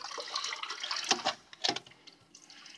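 Water pouring from a public fountain, an uneven splashing rush with a few louder surges, close and alone with no talk.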